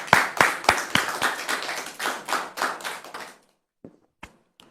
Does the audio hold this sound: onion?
no